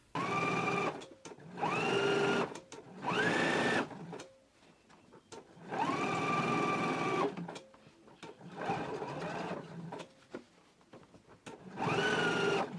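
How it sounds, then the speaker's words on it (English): Sewing machine understitching the under collar of a jacket, running in repeated bursts of rapid whirring stitches about a second or two long, separated by short quiet pauses, close and clear. "And we can go ahead and do our understitching now."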